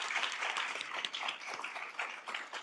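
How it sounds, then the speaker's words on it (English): An audience applauds panel speakers at a women in leadership and philanthropy event, giving brisk, even clapping from many hands that stays steady and moderately quiet for the whole stretch. "So let's give them a round of applause"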